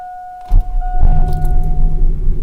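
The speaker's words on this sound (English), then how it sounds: "so we'll go to start the truck" A truck engine cranks and starts about half a second in, catching with a loud broadband burst, then settles into a steady low idle rumble with a faint electronic whine running underneath.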